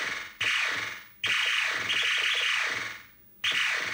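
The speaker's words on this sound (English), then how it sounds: "or the schematics call, the shot sound effect." Shot sound effect from a Zaxxon arcade board, a harsh hissing noise burst with a fast-decaying tone, fired three times in about four seconds. It is loud, close and alone.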